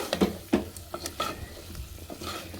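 Spices and chopped banana flower being sautéed in a pan for a vegetarian dal, with soft continuous frying sizzle and repeated scraping stir strokes from a spatula, close and fairly quiet.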